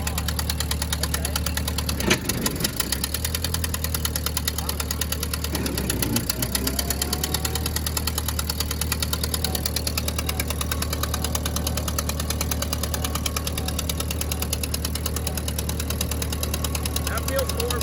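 A Ford tractor engine runs with the PTO engaged, a steady close mechanical drone with rapid knocking pulses and a sharp clank near the start, while people talk.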